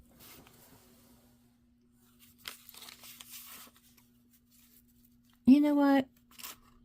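Paper being cut with scissors while preparing junk journal signatures, a few soft snips and rustles near the mic before a brief louder crunching cut, with a person speaking at the end.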